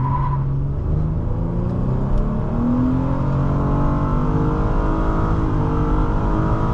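A 2016 Nissan Altima 3.5 SL accelerating hard from a standstill in sport mode, with a loud, continuous engine note rising through the revs and slight tire noise, heard from inside the cabin.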